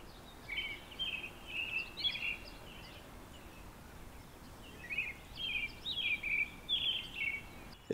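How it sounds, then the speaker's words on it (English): Wild birds chirp and sing outdoors on open grassland, with two bursts of bright calls over quiet background air. "Listening to the birds serenade us."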